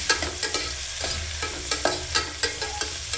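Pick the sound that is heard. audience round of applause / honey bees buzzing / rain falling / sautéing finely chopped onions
sautéing finely chopped onions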